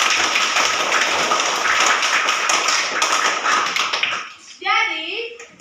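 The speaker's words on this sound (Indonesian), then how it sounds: "Tepuk tangan dulu buat kita semua." A classroom of pupils clapping together in a school lesson, a dense burst of hand claps for about four seconds before it stops and a voice speaks briefly.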